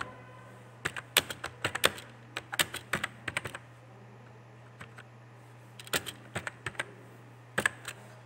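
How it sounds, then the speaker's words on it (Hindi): Keys clatter on a computer keyboard in quick, irregular bursts of close, crisp taps, with short quiet gaps between the runs of typing. "यहाँ पे अभी हम थोड़ा टाइपिंग वर्क करेंगे।"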